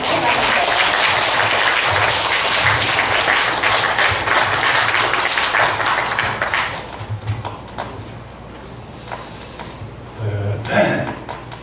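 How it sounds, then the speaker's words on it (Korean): A Korean speech contest audience gives a long round of applause, loud and dense for about six seconds before thinning into scattered claps and room noise, with a voice briefly heard near the end. "큰 박수 한번 주세요"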